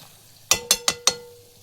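Masala mixture being stirred in a pan over a wood-fired village chulha: four sharp, evenly spaced scrapes or clinks of a utensil against the pan, close and crisp, with a faint hiss underneath.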